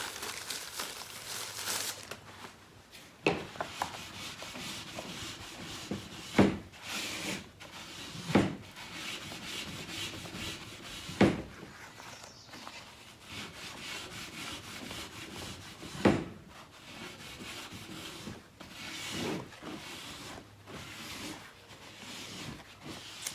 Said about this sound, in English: That's how you strip a piece that has some detail to it, some grooves and some ridges, using the steel wool, the stripper, and the brushes.